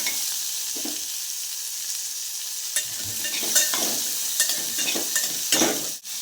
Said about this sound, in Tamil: வெங்காயம் நல்லா போட்டு வதங்கணும்.